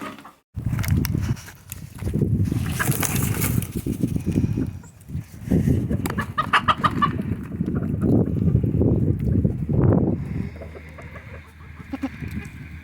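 Bantam hens clucking close by in a backyard coop, a busy run of repeated clucks and short squawks, with no one speaking over them.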